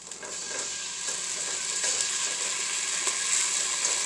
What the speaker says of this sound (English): I'm going to stir fry about 1 spoonful of the recaito.